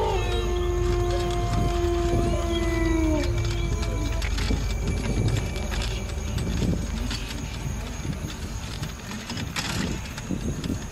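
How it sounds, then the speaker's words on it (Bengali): Cartoon jackals howl in long, gliding wails that fade out, while steady cricket chirping runs beneath, followed by rustling and thuds in a dark night scene. "আশেপাশ থেকে ভেসে আসছে ঝিঝি পোকার ডাক এবং শিয়ালের ভয়ঙ্কর"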